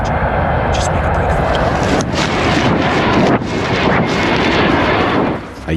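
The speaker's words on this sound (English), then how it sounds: "help came in the form of an American transport plane" An American transport plane roars overhead in a military video game, a loud continuous wind-blasted engine rumble with booming gunfire-like thumps mixed in, no speech over it.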